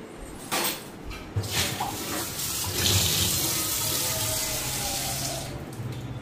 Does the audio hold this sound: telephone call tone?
no